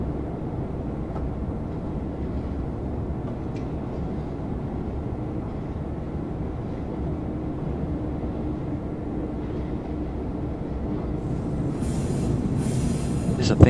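A heavy BR143 electric locomotive train rolls along the Mosel Valley line in Train Simulator 2016, giving a steady, loud low rumble throughout that swells slightly near the end with a brief high hiss.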